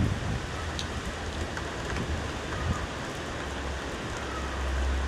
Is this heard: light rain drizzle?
yes